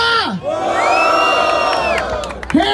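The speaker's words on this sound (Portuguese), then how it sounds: "Barulho para as rimas do Refel" Large crowd roaring and cheering after a verse at a Brazilian freestyle rap battle semifinal in Barueri, São Paulo: a sustained loud wall of shouts and whoops with a brief dip and rising yells near the end.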